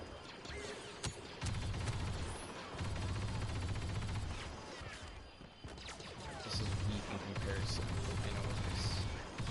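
Video game gunfire, rapid bursts of shots and mechanical clatter in repeated clusters under a constant noisy game bed, with someone talking over it.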